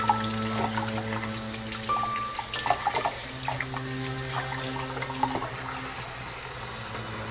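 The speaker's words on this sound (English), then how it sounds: "I'm going to rinse the net that I use to rinse out the shrimp" Water runs from a tap into a sink, rinsing a shrimp net used in a seahorse tank, a continuous splashing flow with small clatters over a steady hum.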